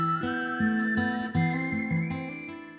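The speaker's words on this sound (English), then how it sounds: "sounds at first like some spaghetti western theme with the acoustic guitar and whistling" A bright, sustained whistled melody glides over strummed acoustic guitar and low accompaniment, steady and prominent throughout the short passage, in a spaghetti-western style intro to a metalcore power ballad.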